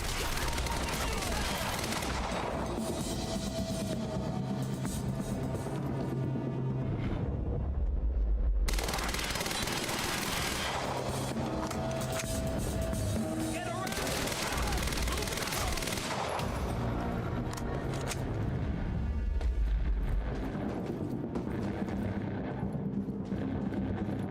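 Gunfire in the video game Quantum Break: sustained automatic bursts and shots rattle on loud and close for the whole stretch, with brief pauses and booming impacts mixed into a dense, chaotic battle din.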